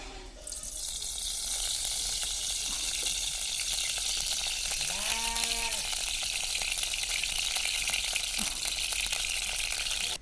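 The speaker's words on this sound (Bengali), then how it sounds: "ছাঁকনির মধ্যে ডাল নিয়ে নিয়েছি, এবার এইভাবে ভেজে নেব।" Steady, loud sizzling of mung lentils frying in hot white oil in a kadai, with a brief clink of a utensil midway.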